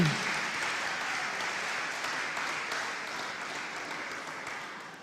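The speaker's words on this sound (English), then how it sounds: "keep the applause going for Miss Camila Candy Isaacs" Sustained audience applause at a national achievement awards ceremony after a performance, a steady wash of many hands clapping that gradually fades.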